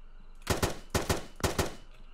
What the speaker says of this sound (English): Bullets entering the air!